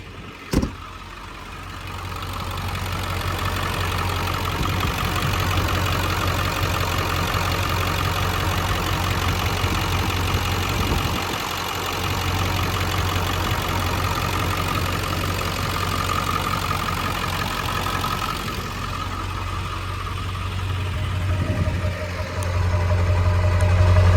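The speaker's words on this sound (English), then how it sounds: "Let me get out so you can hear it idle." A 2001 Ford Excursion with a 7.3L Powerstroke diesel idles steadily, a low, even clattering rumble heard close and continuous with no talking.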